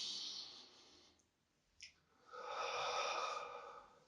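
Breathing exercise: a slow breath drawn in, a brief pause with a small click, then a longer, louder breath pushed out through the mouth, close and clear with no talking.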